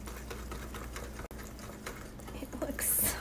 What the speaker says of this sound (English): And this is the last half a cup. I'm going to whisk that well.